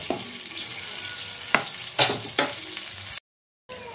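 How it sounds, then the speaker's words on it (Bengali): A tempering of black cumin and green chilli fries in mustard oil, a continuous close sizzle punctuated by several sharp clacks of stirring against the pan, then a brief pause. "এবার ফোড়নটা ভালো করে ভেজে নেব।"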